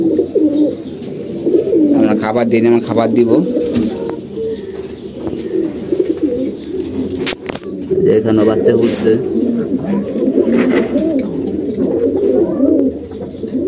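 Pigeons in a loft with newly hatched chicks coo repeatedly and close by, the low burbling calls continuing under someone speaking Bengali.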